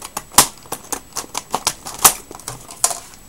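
A series of sharp, crisp snips and clicks, about a dozen in quick irregular succession, close by, like IKEA scissors cutting through stiff plastic packaging.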